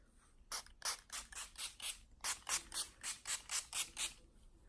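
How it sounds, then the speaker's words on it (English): Pump bursts of e.l.f. Beauty Shield Daily Defense makeup mist from a spray bottle, about a dozen quick hissing sprays in a steady rhythm with a short pause midway, close and alone. "I'm going to start by spraying my face with the e.l.f. Beauty Shield Antioxidant Enriched Skin Protection Daily Defense Makeup Mist"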